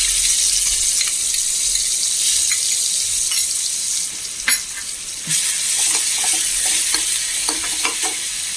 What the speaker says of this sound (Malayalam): നമ്മളതിലേക്ക് ഈ 2-3 ഉള്ളി ചതച്ചതില്ലേ, അതിട്ട് കൊടുക്കാം.